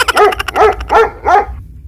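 A dog barks four times in a quick, evenly spaced run, close and loud, ending in silence.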